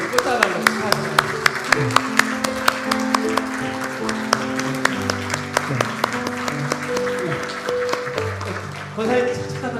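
A church congregation at a New Year's Eve service in a Presbyterian church in Suwon, Korea, applauds with sharp, rapid claps. The clapping runs steadily through the whole stretch over sustained tones and room sound.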